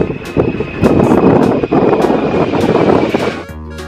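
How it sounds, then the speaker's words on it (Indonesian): A loud airplane roars steadily with a broad rushing drone and wind buffeting, ending in a brief musical chime. "Pesawat terbang."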